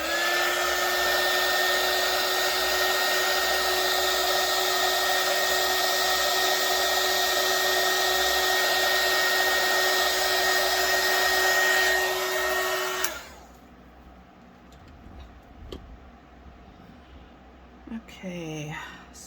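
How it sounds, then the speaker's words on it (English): Hot air gun blowing over UV resin to clear bubbles, a loud steady whine and rush running about thirteen seconds before cutting off, followed by quiet handling noises and faint talk. "I'm going to need my hot air gun as usual to get all those bubbles out."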